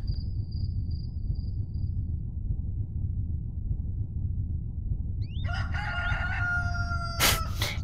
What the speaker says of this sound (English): As you hear a rooster in the background.